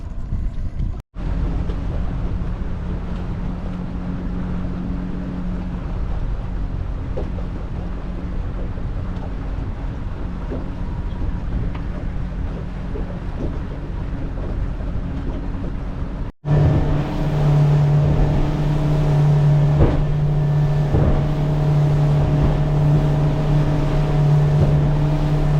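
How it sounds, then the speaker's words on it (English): Boat engines hum at a busy boat ramp on a calm morning, a loud steady motor drone that continues with little change and grows stronger partway through. "She's a busy boat ramp this morning."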